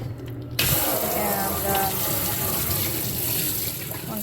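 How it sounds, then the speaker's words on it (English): Hot water sprays hard and steadily onto a Shark vacuum cleaner part being rinsed, a loud continuous hiss and splash that begins abruptly and runs without pause. "then I'm gonna start spraying it with hot water and just trying to get rid of as much as I can with it."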